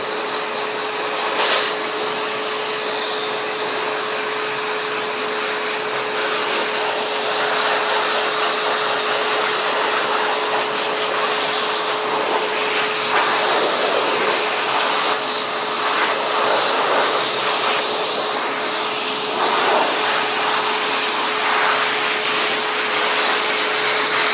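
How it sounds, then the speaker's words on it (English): A hair dryer blows steadily and loudly while a cat is being groomed and blow-dried, a constant whooshing motor drone with a faint high whine that runs unbroken the whole time. "Now, I'm sure Chapeau does not love being this blow dried, but she tolerates it beautifully."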